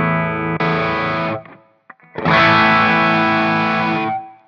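Two long, heavily distorted electric guitar chords through an Origin Effects Revival Drive pedal ring out, separated by a short gap, loud and sustained with no talking.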